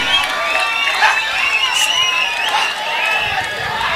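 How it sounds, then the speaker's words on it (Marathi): Spectators at a village kabaddi match on ground number 2, a loud dense crowd roar with shouting and cheering swelling throughout, an announcer's voice running over the noise. "क्रीडांगण नंबर 2 वर हाहाकार, टाळ्यांचा गजर, रसिकांनी आवाज केलाय."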